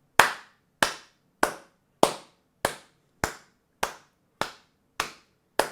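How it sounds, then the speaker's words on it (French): One person claps hands ten times at an even, unhurried pace, each clap sharp, close and dry with a quick decay, with no other sound between. "c'est la première fois que j'applaudis un fou"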